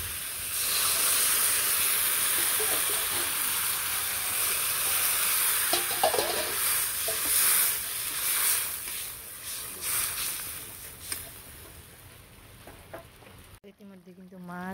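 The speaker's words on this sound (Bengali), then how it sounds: "এখন দিয়ে দিব জল" Water poured into a hot pan of fish curry sets off a loud, sustained hiss of steam and sizzling that slowly fades, with a few faint utensil taps toward the end.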